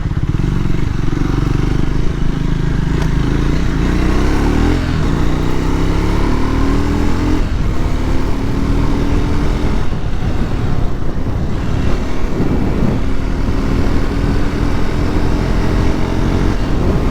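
A Triumph Scrambler 400X motorcycle rides off-road with a loud, continuous engine drone that climbs and falls as the revs change, heard up close with wind buffeting the microphone.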